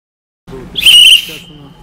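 A loud, shrill whistle is blown inside a store in one piercing blast of about half a second, with brief voices and movement just before it.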